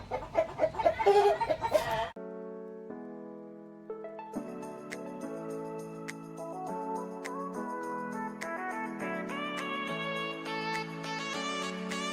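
A brief burst of Dominant CC chickens clucking up close, quickly giving way to steady instrumental music that plays for the rest.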